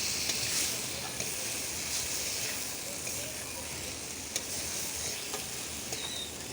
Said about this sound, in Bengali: ভালো করে আলুর সঙ্গে মাখিয়ে নিচ্ছি আলুটাকে।